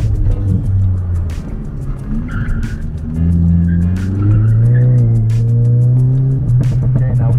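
Car running an autocross course on a first outing, engine droning and shifting pitch through tight zigzag gates while tires squeal in long stretches, close and loud throughout.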